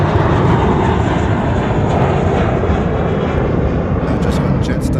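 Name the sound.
Jetstar Airbus A320 jet taking off at Sydney Airport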